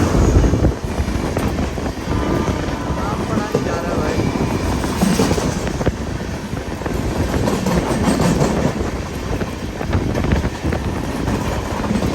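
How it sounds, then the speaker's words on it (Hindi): A train rolls past steadily and close, its wagons clattering over the rails with a constant rumble and wind buffeting the microphone throughout. "कोई तो ट्रेन आ रही है अभी"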